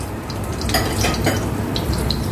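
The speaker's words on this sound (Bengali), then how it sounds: "এই সবগুলো আমি দিয়ে দিচ্ছি তেলের মাঝে।" Bay leaves, cloves, cumin, cardamom, black pepper, cinnamon and dried chillies fry in hot oil for a Bangladeshi katla fish curry, giving a steady, moderately loud sizzle and hiss with a few faint clinks.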